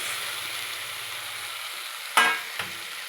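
Tomato going into hot oil in a pan for a chicken gravy curry: a steady sizzle and fry hiss runs throughout, broken near the end by two sharp spoon-on-pan clacks as it is stirred.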